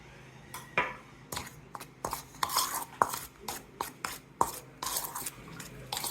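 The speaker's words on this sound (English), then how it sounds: "I'll mix everything together like that." Seasoning with black pepper and cayenne being mixed in a bowl, giving a quick series of light, close clinks, taps and scrapes in an irregular rhythm, with no talk.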